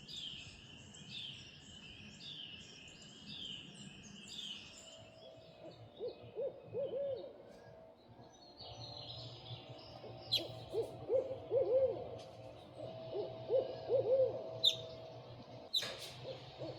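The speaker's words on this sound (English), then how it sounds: "I'll add to that the sound of owls." Owls hoot at night in repeated calls that give way to lower, more intermittent hoots, with faint crickets and other night sounds in the background.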